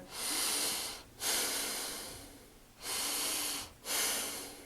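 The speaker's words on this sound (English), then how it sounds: "first we're going to do our diaphragmatic breathing from here" Slow, deliberate diaphragmatic breaths during a crawling-pattern exercise: two long, airy inhale-exhale swells separated by brief pauses, close and fairly loud, with no talking.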